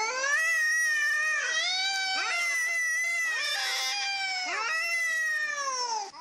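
Two cats in a standoff, long yowling caterwauls rising and falling continuously, close and fairly loud with no talk.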